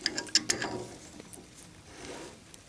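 A hand ratchet tightens the nut on a trailer wheel bearing, giving a few quick sharp clicks at the start and then quieter scattered ticks and faint handling noise.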